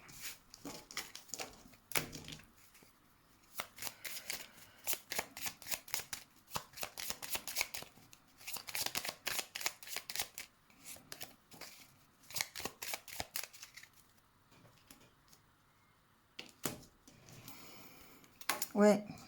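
Tarot cards are shuffled by hand for a reading, making repeated crisp riffling bursts with short pauses between them, close and fairly quiet, and soft talk can be heard in places.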